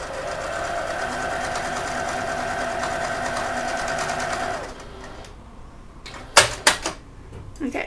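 Sewing machine stitching fabric for a wallet, a steady close rapid whirring run lasting several seconds, then stopping, followed by a few sharp clicks and knocks of handling the machine.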